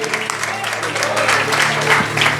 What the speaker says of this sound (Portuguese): louvando a Deus com as palmas bem alegres para Jesus